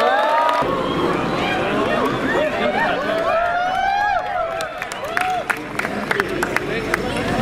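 Loud, sustained audience applause with cheering and crowd murmur fills the hall at the Suryadatta national awards ceremony, the clapping growing sparser and more scattered toward the end.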